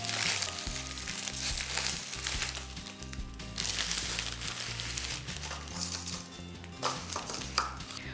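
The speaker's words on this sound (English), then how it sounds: "I'm going to roughly break the vermicelli" Dry vermicelli for a Kerala vermicelli pudding snaps and crackles as it is roughly broken by hand, a steady dry crunching over a continuous bed of background music.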